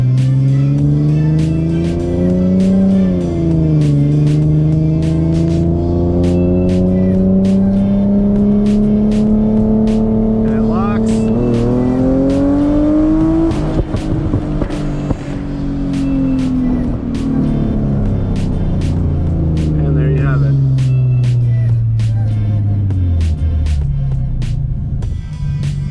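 Tuned Infiniti G37 with an UpRev tune accelerating hard through a second-gear pull, its engine note climbing steadily in pitch with a brief shift dip early on, loud and close throughout, with no talking.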